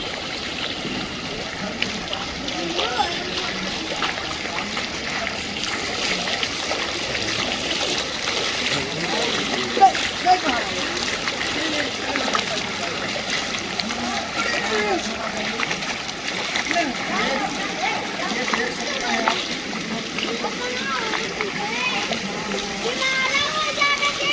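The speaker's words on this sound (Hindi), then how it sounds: "इधर देख सकते हैं आप, ये पानी इधर से आ रहा है।" Floodwater flows steadily through a village and into houses, a continuous rushing, splashing wash heard throughout, with someone talking over it.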